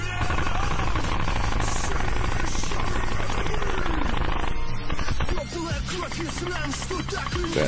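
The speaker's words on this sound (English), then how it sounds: "That is a heavyweight fire." Heavy machine gun fire in combat footage from the Ukraine war trench fighting, loud, dense and continuous for most of the stretch, then shifting to sparser, rattling bursts near the end, with no talking.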